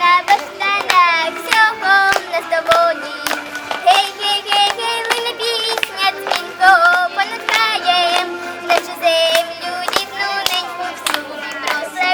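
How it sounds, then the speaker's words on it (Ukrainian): Hands clap in a lively rhythmic pattern, mixed with a girl singing a melodic tune; the claps are sharp and evenly spaced, more like clapping along to music than a burst of applause. "Хлопці, аплодуйте."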